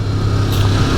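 A 1988 Honda VFR 750 F RC24 motorcycle engine drones steadily and close while riding, a constant mid-revving hum with no talk over it.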